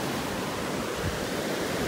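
Ocean waves wash onto a beach in North Naples, Florida, a continuous broad rushing roar of surf that stays steady and fairly full throughout, with no voices.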